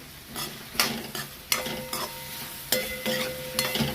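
Ridge gourd palya frying in oil in a pan crackles and sizzles while a spatula scrapes and stirs in several distinct strokes, close and without talk.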